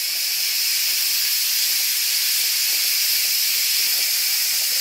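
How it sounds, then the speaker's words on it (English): A pressure canner on high heat at 15 pounds releases steam in a steady, loud, continuous hiss with no pauses, close by and alone. "Okay, we now have steam."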